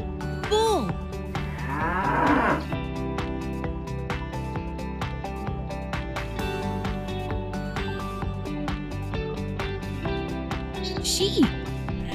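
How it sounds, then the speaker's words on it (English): A bull moos in a low drawn-out call near the start, with a shorter call toward the end, over continuous background music. "Bull."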